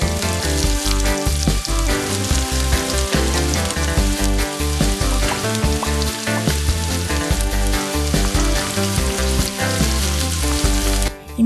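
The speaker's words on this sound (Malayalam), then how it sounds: "ഇനി ഇതിലേക്ക് 10 ചെറിയ ഉള്ളി അരിഞ്ഞത് ചേർത്ത് ഒന്ന് വഴറ്റുക." Small chopped onions sautéing in coconut oil in a pan, a continuous crackling sizzle with scattered pops and occasional stirring scrapes throughout, fairly loud and close with no talk.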